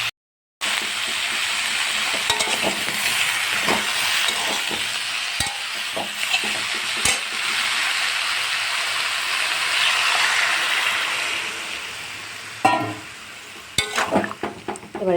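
Mixed vegetables for milk shukto fry in a pan while being stirred, a continuous sizzle broken by sharp scraping strokes of a spatula, louder clatter near the end.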